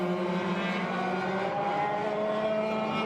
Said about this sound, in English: These carts warm down as they go around the track.